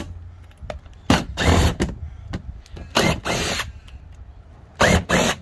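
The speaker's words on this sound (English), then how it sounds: "I'm just going to use a power tool just because it's faster for me" A power tool removes bolts on a 2002–05 Toyota Camry ACV36R during a fog light installation, whirring in short, loud bursts separated by pauses.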